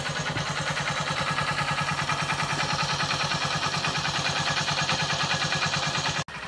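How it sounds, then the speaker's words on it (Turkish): Motorcycle engine idling steadily after start-up, warming freshly painted exhaust, a loud continuous rhythmic putter close by that briefly cuts near the end. "Şimdi motorumuzu yerinde bir çalıştıralım."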